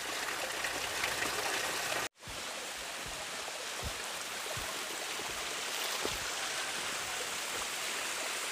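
Water rushes steadily through a waterfall garden at Doi Pui Hmong village in Chiang Mai, a dense, even hiss close by. A brief dropout interrupts it early, and then the flow continues unbroken with no voices.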